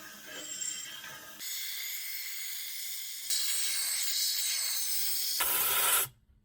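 Spray is forced into holes in a car underbody, giving loud continuous hissing bursts that shift in strength through several stages before stopping sharply.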